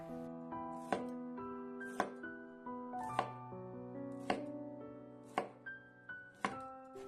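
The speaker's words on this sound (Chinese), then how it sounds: "半根烤肠先切成片" A knife slicing half a grilled sausage on a cutting board, about nine crisp, distinct thuds at a steady unhurried pace, close and clear over faint background hum; no talking.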